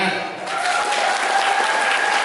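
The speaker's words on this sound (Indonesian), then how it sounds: "Mana tepuk tangannya?" A crowd at a retirement farewell ceremony applauds loudly and steadily, continuous dense clapping filling the whole short moment with no pause.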